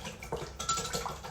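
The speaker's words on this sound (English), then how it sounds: "I'm going to whisk that up." Dressing with Aleppo pepper being whisked in a bowl, giving a quiet, quick run of light clinks and wet scraping that rises and falls over about a second.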